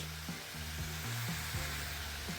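Ginger-garlic paste frying with onions in a pan: a steady, close sizzle hisses throughout with no pauses, and a low hum sits underneath.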